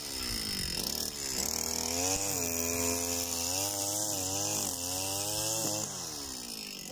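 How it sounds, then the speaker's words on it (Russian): A 250-class string trimmer worn on a harness cuts summer grass with thin line, its engine whining loud and steady for the whole stretch, pitch dipping and rising as it bites into the growth. "Покажу, как режет тонкая леска"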